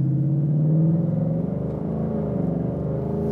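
A 2021 Ford Mustang Mach 1 on cup 2 tires drives along with a steady, close interior engine rumble, its 10-speed automatic easing through a smooth gear change partway through.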